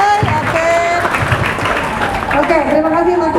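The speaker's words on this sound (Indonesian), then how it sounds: "Boleh bikin tepuk tangan dong buat Mas Ubay." A studio audience on an Indonesian Ramadan health talk show claps steadily and densely for the full few seconds, loud and close, with voices and tonal sound running underneath the applause.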